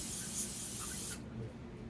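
A steady hiss of aerosol spray cleaning carbon from a Predator 212cc small engine, lasting about a second, then cutting off abruptly, leaving a low background rumble.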